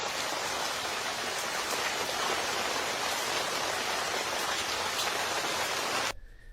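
Heavy torrential rain pours down in Tokyo, a dense, loud, unbroken hiss that fills most of the clip before cutting off abruptly near the end.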